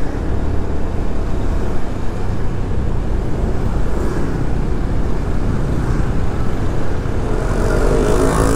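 Steady, loud traffic rumble on a congested road in Dalung towards Kerobokan, Bali, in the late afternoon, with idling car engines and low roadway drone continuing unbroken throughout.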